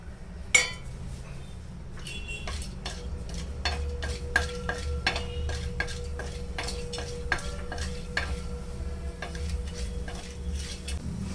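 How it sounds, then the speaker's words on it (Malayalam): Whole spices frying in hot coconut oil in a pan, with a soft, steady sizzle beneath repeated metallic clinks and scrapes of a spoon against the cookware. "അപ്പോൾ വെളിച്ചെണ്ണയിലേക്ക് ഞാൻ എല്ലാ ഹോൾ സ്പൈസസും ഇട്ട് കൊടുക്കുന്നുണ്ട്"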